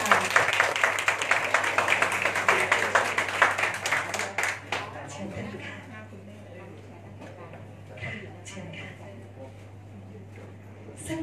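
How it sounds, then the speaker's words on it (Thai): Clapping from guests welcoming a couple at a Thai wedding procession in Kanchanaburi: a dense burst of applause for about five seconds that fades out, followed by quieter room sound with a steady low hum and some talk. "ขอเสียงปรบมือต้อนรับท่านเลยค่ะ"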